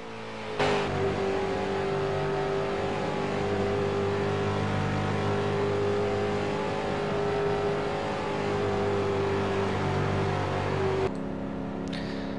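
Race cars in a stock car racing video game at Charlotte Motor Speedway at night, a dense engine drone that rises sharply as the field accelerates on the green-flag restart, then holds loud and steady before cutting off abruptly.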